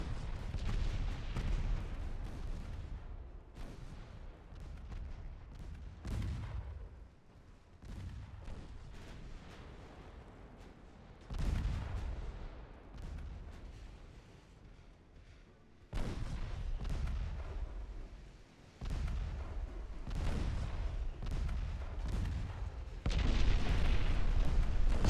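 Warship guns boom repeatedly in Ultimate Admiral Dreadnoughts during a stormy-weather naval battle, with loud heavy blasts arriving in irregular bursts over a constant roar.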